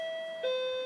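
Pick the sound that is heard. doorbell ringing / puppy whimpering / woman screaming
doorbell ringing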